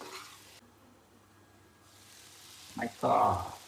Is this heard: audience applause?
no